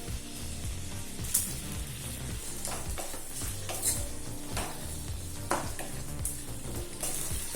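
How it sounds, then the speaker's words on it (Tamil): Chopped tomatoes sautéing in a pan for a potato gravy, a steady close sizzle with repeated stirring scrapes and occasional sharp clinks of a utensil against the pan, no talking. "இப்ப தக்காளி நல்லா வதங்கிடுச்சுங்க."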